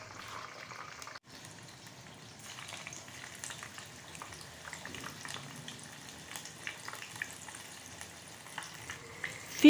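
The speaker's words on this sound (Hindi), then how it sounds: "एक पैन में मैंने ऑयल को गर्म कर लिया है, इसमें अब मैं फ़िश डाल दूँगी जो मैंने मसाला लगा के रखी हुई थी।" Spice-marinated fish frying in hot oil in a pan, a steady, dense sizzle and crackle that carries on alone at close range, with a brief dip near the start.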